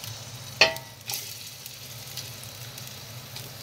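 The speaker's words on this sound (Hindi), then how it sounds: "चलिए ये हम लोग पे मटन डालेंगे। एक किलो मटन चला गया" A kilo of mutton drops into a hot pot for haleem and sets off a short, sharp sizzle. A second, softer hiss follows, then only a quiet low simmer remains.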